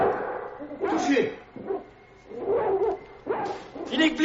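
A hound barks and yelps loudly in a few sharp bursts in a dramatized Sherlock Holmes scene, mixed with shouting voices.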